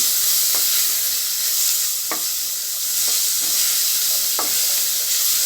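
Spices and tomato sautéing in a pan for coconut milk rice make a loud, even sizzle, broken by a handful of sharp scrapes from a stirring spoon, close by with no talking.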